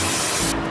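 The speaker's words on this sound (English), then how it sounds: "I'm going to give this a quick spray with Pam," Pam cooking spray hisses steadily from an aerosol can into a casserole dish, one continuous close burst lasting under a second and cutting off near the end.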